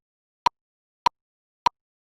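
Three crisp metronome clicks marking half notes at a steady, moderate pace, each short and isolated with silence between them.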